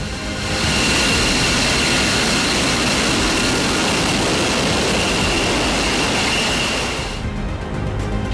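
Roar of an F-22 fighter jet engine, a loud, dense, continuous rushing blast with a steady high whine that holds for about seven seconds before cutting away abruptly.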